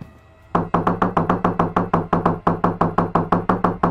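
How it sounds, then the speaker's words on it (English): Knocking on a door in a pandemic-themed horror video game: a rapid, even series of about sixteen sharp hollow knocks, loud and close, starting abruptly after a quiet ambient hum. "Knock knock."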